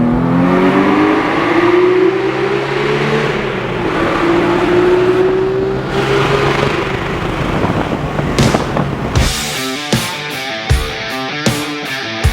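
A 500-horsepower sports car with a 4-liter flat-six engine revs up close, its pitch climbing and falling, then a series of sharp pops and cracks follows as the engine comes off throttle.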